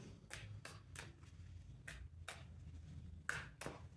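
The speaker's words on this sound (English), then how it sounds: "Going to shuffle like this in order to just uh, cleanse the energy of the deck from the previous pile." Tarot cards shuffled by hand during a reading, giving a string of short, crisp riffling bursts spaced irregularly over a low steady room hum, fairly close and quiet, with no voice.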